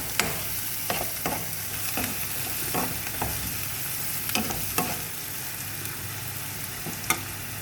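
Garlic and onion frying in oil with cumin and fenugreek seeds, a steady low sizzle broken by the scrape of a spoon stirring the pan every second or so, close and fairly quiet, with no talking.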